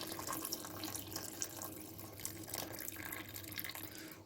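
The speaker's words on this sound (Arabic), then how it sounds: "طبعا كنديروا الماء طيب، كما كنقول لكم دائما الماء طيب باش كتبلي." Tap water runs steadily into a pot for red lentil soup with vegetables, a continuous close hiss and splash that lasts the whole clip with no voices.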